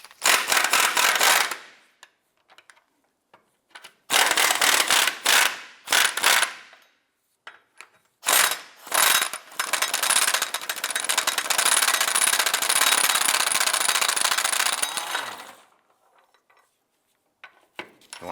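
A ratchet wrench loosens and removes bolts on a front sway bar bracket of a 2004-2008 Acura TL, producing bursts of rapid metallic clicking separated by pauses, with one longer continuous run close by.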